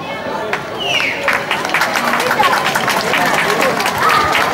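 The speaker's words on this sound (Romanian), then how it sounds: "Vă mulțumesc pentru aplauze" An audience applauds at a Romanian folk music show, the Călușul Românesc festival held in a summer theatre. Dense, steady clapping blends with crowd murmur and runs unbroken, fairly loud and close, for the whole stretch.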